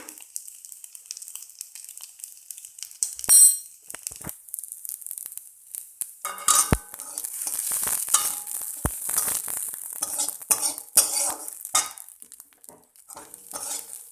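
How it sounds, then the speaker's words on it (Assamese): Hindal being fried with onions and salt in a pan gives a sizzle broken by sharp scrapes and clinks of a spatula stirring against the metal, irregular and close, with quiet gaps early on and no talk. "হিন্দলখিনি অলপমান ভাজি ল'ব লাগিব।"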